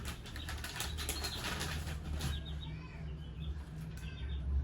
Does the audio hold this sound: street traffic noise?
no